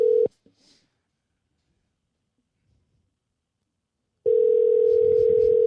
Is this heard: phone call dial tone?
yes